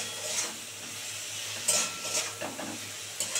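Spoon stirring through a sour fish curry in a pot as mustard paste goes in, a soft steady sizzle underneath with a few sharper scrapes and clinks against the pan.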